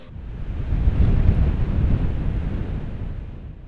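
Surf breaks on the Texas coast at Corpus Christi, a loud, low rushing wash of waves that swells and then settles, with some wind buffeting and no voices.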